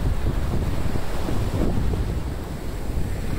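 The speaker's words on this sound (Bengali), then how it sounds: "দেখেন ঢেউ আসতেছে, কি সুন্দর খেলতেছে।" Surf rolls and breaks in a constant low rumble, mixed with gusty wind buffeting close by, sustained throughout with no talking.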